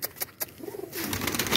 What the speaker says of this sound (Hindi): भूखे हैं कबूतर, इन्हें दाना डाला था